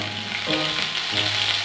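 Green chilies go into hot oil with browned cumin and sizzle steadily up close, with a brief burst of stirring midway and nobody talking.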